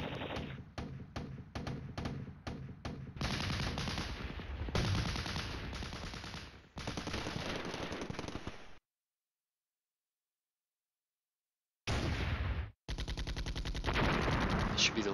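Gunfire in the wargame Flashpoint Campaigns: Red Storm, with rapid repeated shots and then sustained loud bursts of firing, a long silent gap, and more heavy shooting at the end.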